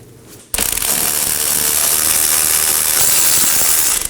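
A ratchet spins rapidly, loosening and removing knuckle bolts on a Chevrolet Equinox. A quiet pause leads into a sustained, close, loud buzzing click that runs for several seconds.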